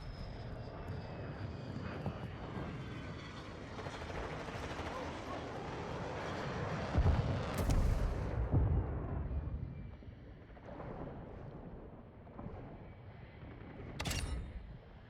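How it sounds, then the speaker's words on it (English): A Harrier jet airstrike in Call of Duty: Modern Warfare II, a loud roaring jet pass with heavy rumbling explosions mid-way and another burst near the end, over game noise. "Calling my Harrier to strike on the western half of the map."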